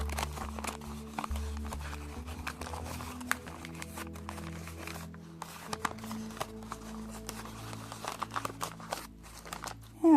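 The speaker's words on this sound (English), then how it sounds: "And I just take the top and kind of fold it in just a little bit." Paper being folded and creased by hand while making a round seed pot shaped around a glass, quiet crinkling and rustling over a low steady background hum, with a sharper crackle at the end.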